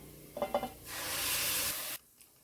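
A couple of clinks from a utensil against a pan, then a loud hissing sizzle of tomato paste frying for about a second before it cuts off.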